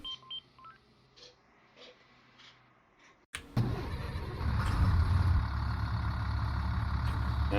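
Dialing tones and quiet clicks come first, then a school bus engine cranks and catches with a crisp, loud idle. The idle rises to a steady, full rumble that carries to the end.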